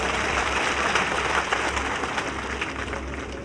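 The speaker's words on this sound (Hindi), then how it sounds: "इसलिए सबके लिए जोरदार ताली बजा दो।" Loud, sustained applause from a large crowd at a BJP Lok Sabha election rally in Churu, Rajasthan, steady dense clapping throughout with no speech over it.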